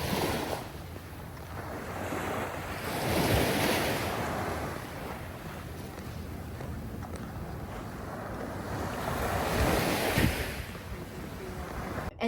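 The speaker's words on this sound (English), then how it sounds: "we enjoyed the sea." Ocean waves wash onto a beach in Lombok, Indonesia, in slow swelling surges of surf, with steady wind rumble over the microphone.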